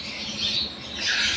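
Birds call and squawk outdoors on an early morning, a couple of rising shrill calls a little distant over a soft steady background hum.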